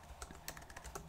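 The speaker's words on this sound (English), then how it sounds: "And I'm just going to type in Bjorn at" An email address tapped out on a computer keyboard: a short run of soft, uneven key clicks over a steady background hum, faint and close, with no voices.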